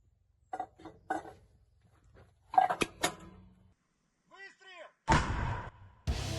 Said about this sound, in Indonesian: aksi meriam anti-tank MT-12 Rapira menghancurkan target di garis depan arah Donetsk Selatan